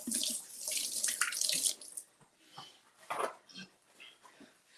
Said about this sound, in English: So let's wash this off and slice it up.